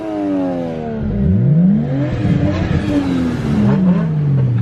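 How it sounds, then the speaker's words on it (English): A Nissan Skyline drift car's engine revs up and down several times, its pitch rising and falling in loud surges, with voices talking briefly over it. "Let's hear a rev."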